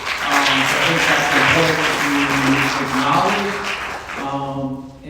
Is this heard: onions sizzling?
no